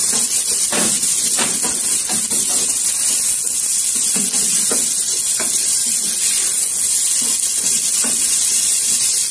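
Mortadella frying in a pan with rice, a loud steady sizzle and hiss with occasional spoon clinks and stirring thumps.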